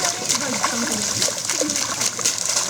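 Something being washed in splashing water, close sloshing and dribbling with brief splashes at intervals, while someone speaks over it.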